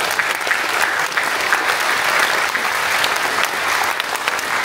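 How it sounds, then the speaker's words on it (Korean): Congregation at a Korean Armed Forces Day worship service clapping in encouragement, a dense, even burst of applause that fills the whole stretch without pause. "저희가 격려하는 박수 한번"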